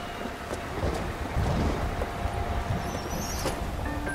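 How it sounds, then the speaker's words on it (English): Steady rain hiss on a rainy night in the video game LA Noire, with faint low rumbles that may be distant thunder, continuous and moderately loud throughout with no talk. "A rainy night."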